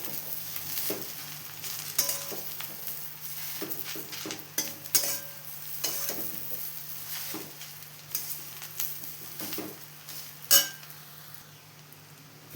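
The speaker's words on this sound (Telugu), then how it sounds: "ఒక్కొక్క వాయకి కొంచెం కొంచెంగా అట్లా వేయించుకోవాలండి" Salted gongura leaves with turmeric fry in oil in a pan while a utensil stirs and scrapes. A steady sizzle runs underneath, broken by repeated metallic clinks and scrapes, close by, with no talking.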